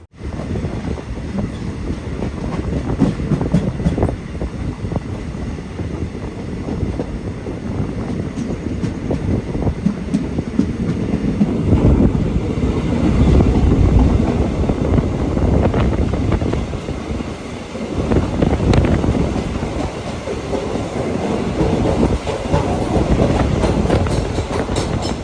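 Matsyagandha Express train running on rails near Bhatkal, a loud continuous rumble of wheels and carriages heard from on board, with wind buffeting the microphone and surges in intensity, no speech.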